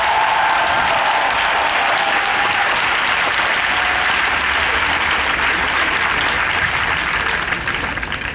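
A church congregation breaks into sustained, dense applause that fills the room, loud and even throughout with no voices standing out above it.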